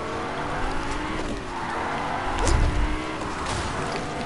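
Car engine and tires from a battle-royale arena duos video game, a steady motor drone throughout with a louder rumbling swell midway and faint skid-like squeals, mixed with game effects.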